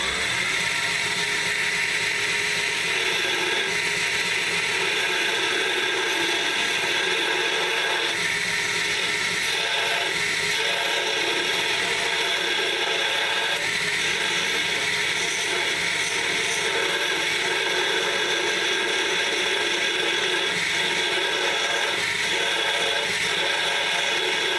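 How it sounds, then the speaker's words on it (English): Bench grinder with a small wheel attachment roughing a curve into a knife blade spine, a steady, dense grinding whine held continuously throughout with no pauses. "for these inside curves, I like to hog the material off with the small wheel attachment"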